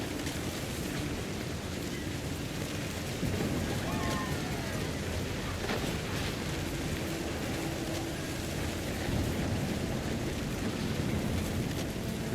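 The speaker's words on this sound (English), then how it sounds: "The thunder sounded much too close and full of angry power" Thunder and steady heavy rain from the video game What Remains of Edith Finch form a continuous loud wash. Low rumbles roll through it and there is no speech.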